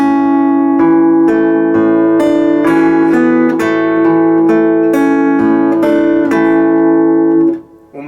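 Guitar playing two A measures of a song, a close, clear fingerpicked passage of ringing chords and plucked notes in a gentle, even rhythm, ending as the last chord fades.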